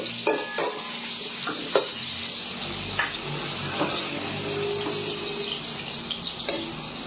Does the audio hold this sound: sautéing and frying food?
yes